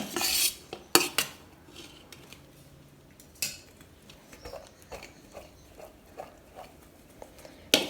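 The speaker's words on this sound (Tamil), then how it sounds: "உடையாமல் கிளறி விடுங்க." A metal spoon gently stirs and turns cooked rice dressed with sesame oil for brinjal biryani, giving soft, irregular scraping clinks against the pot, close and quiet with a few sharper taps.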